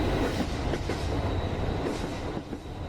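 A passenger train travels on the rails toward Wonokromo station in Surabaya, Indonesia, heard from inside the carriage. The close, steady rumble carries faint rhythmic clickety-clack and no voices.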